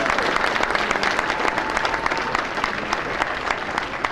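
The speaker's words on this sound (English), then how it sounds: "Big round of applause one more time for Jerry." Audience applause at a 2013 Pennsylvania Sports Hall of Fame banquet, a full, steady roar of many hands clapping throughout, moderately loud and even with no break.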